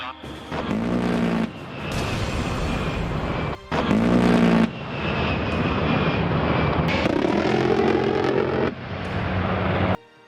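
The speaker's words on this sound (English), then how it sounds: "The unmistakable sound of the A-10 Thunderbolt II," A-10 Thunderbolt II Warthog attack jet flying, a loud roaring engine rumble with surging peaks and a burst near the start, steady and close throughout.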